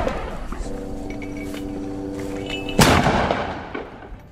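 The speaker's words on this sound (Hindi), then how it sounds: "हमास ने इसका एक वीडियो भी रिलीज किया है।" Heavy mortar shells fired at Israeli soldiers produce one loud, booming blast partway through, rising over a steady background hum and rumble and then slowly fading.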